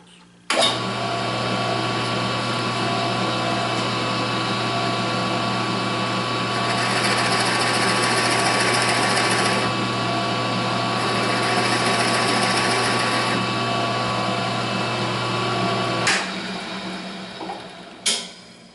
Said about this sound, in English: using the router to clean it up so I get a nice consistent depth